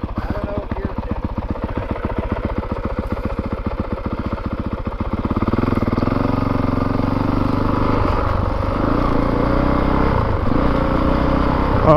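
A 2022 Honda CRF450RX dirt bike engine putters with a rhythmic idle pulse, then revs up into a sustained, loud roar as the rider gets moving; a voice speaks briefly over the engine.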